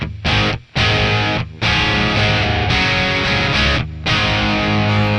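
Heavily distorted electric guitar chords through an amp's dirty channel with a Joyo Atmosphere reverb pedal ring out loud and thick, with a few brief gaps between strummed phrases.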